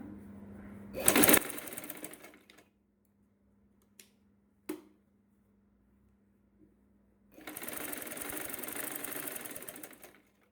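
A domestic sewing machine stitches the lining of a bra-cut saree blouse sleeve, one fairly loud run near the start and a longer steady whirring run toward the end, with a few sharp clicks and a low hum in between.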